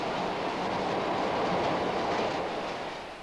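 A New York City subway train in 1981 runs with a steady, loud rumbling roar and rattle that fills the whole stretch, easing off slightly at the end, with no voices.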